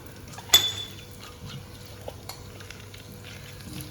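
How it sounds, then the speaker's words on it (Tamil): Bay leaf, cinnamon and cloves drop into hot fat with a sharp crackle, followed by a faint, soft sizzle and a few light clinks of a utensil against the pan. "இப்போ எடுத்து வச்ச பிரியாணி இலை, பட்டை, கிராம்பு எல்லாத்தையும் போட்டு தாளிச்சுக்கலாம்."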